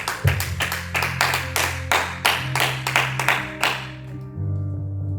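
A church congregation claps together in a burst of rhythmic applause, many hands striking in quick regular beats over a sustained organ-like tone. The clapping ends after about four seconds, leaving the held tone alone.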